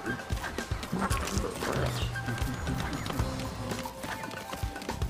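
A horse in a video game: clip-clop hooves and a brief whinny during dense, busy game sound with other effects layered over it, with no talk.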